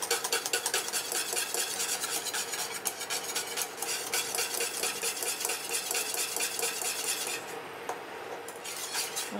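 A spoon scrapes and stirs continuously in a saucepan of boiling coffee cream, loud close rhythmic metallic scraping and rubbing against the pan with brief pauses.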